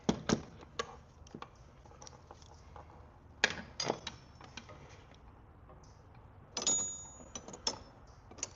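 Wrench clicking on a bolt during removal of a Q50 twin-turbo engine, with sharp metallic ratcheting ticks in several short bursts, close by and fairly quiet, with light workshop clatter between them.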